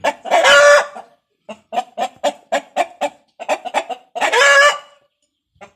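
Newly arrived Saigon gamecocks imported from Vietnam cluck in quick bursts of short calls, with two louder squawking outbursts at the start and near the end, close by and without voices.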